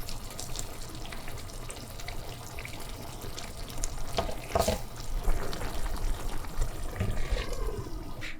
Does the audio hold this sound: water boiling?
yes